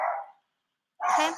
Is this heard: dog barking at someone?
yes